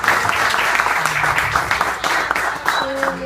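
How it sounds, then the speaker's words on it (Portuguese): A church congregation applauds together in a sustained, dense wash of clapping that fills the space, with voices and shouts mixed in underneath. "Você pode dar uma salva de palmas ao Senhor?"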